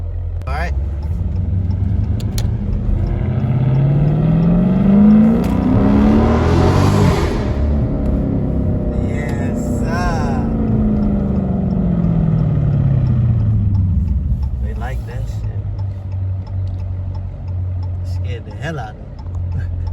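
A Lamborghini Urus with a mid muffler delete revs and pulls away loudly and close by, its engine note sweeping up and back down with rumbling exhaust; speech sounds faintly partway through.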